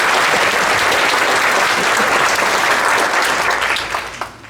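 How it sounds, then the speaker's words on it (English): Steady audience applause fills a school board of education meeting in Pickens County, loud and dense from the start, then thinning and trailing off with a few last claps near the end. "give them a round of applause for what they did great this afternoon"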